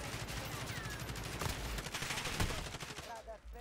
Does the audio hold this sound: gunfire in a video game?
yes